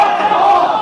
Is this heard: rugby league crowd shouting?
yes